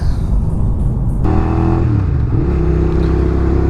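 A motorcycle engine runs loud and close, idling and then revving up in pitch as the rider pulls away, with no voices over it.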